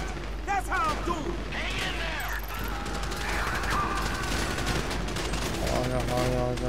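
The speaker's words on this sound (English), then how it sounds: "You hear that gunfire?" Bursts of automatic gunfire crackle through a chaotic shootout in GTA V, sustained rattling volleys layered with shouting voices and game effects, loud and continuous throughout.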